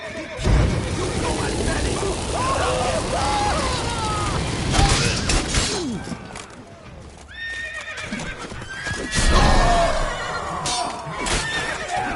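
Horses in The Witcher whinny and neigh repeatedly, with clip-clop hoofbeats and scattered crashes and booms of a fight around them; a voice speaks briefly partway through.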